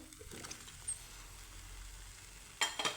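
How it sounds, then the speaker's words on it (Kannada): Potato pieces tipped into a pan of simmering capsicum gravy, giving a steady low sizzle that runs throughout, with a couple of sharper clattering bursts near the end as they land and get stirred. "ನಾನು ಕಟ್ ಮಾಡಿ ಇಟ್ಕೊಂಡಿರುವಂಥ ಆಲೂಗಡ್ಡೆನ ಸೇರಿಸ್ಕೊಳ್ತಾ ಇದ್ದೀನಿ"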